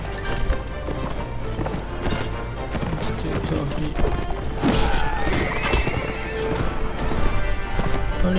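Horses gallop with steady clip-clopping hooves and occasional whinnies in a medieval video game battle against Swadia and the Nords, loud and close amid clashing combat noise throughout.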